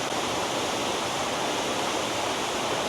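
Steady, dense roar of a waterfall at Kurangani, Tamil Nadu, loud and continuous with no pauses, water crashing close by.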